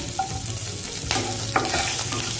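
Green chillies hit a hot pan and are stir-fried for an idli fry dish, a loud close sizzle with scraping stirs and a brief burst of spatula clatter.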